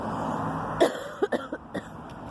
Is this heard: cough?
yes